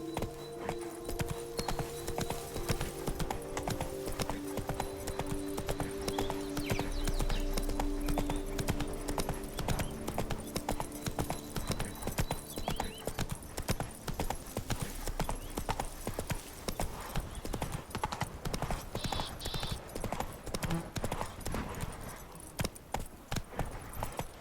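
Roach, Geralt's horse in The Witcher 3, gallops with a brisk, continuous clip-clop of hooves and occasional snorts or whinnies over a busy game soundscape.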